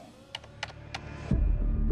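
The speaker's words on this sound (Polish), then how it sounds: "Wali w tym klawiatury." Light keyboard typing in the video game Quantum Break: a few soft, scattered key clicks, followed by a low rumbling hum that swells toward the end.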